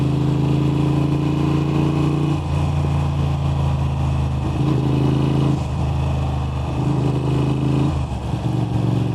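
A Moto Guzzi V7 Stone motorcycle fitted with aftermarket exhaust pipes rumbles loudly and steadily while riding, its deep throbbing engine note rising and easing with throttle changes and no voices over it.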